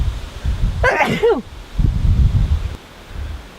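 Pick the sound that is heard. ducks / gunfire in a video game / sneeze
sneeze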